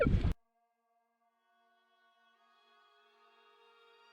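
A Minelab Equinox 800 metal detector searching near a pond gives a faint, steady tonal signal that rises slowly over several seconds after a brief loud burst at the start.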